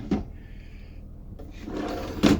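Drawers in the kitchen of a 2003 Tiffin Phaeton 40TGH motorhome slide open and shut close by, two soft thuds bracketing quiet rolling and shuffling.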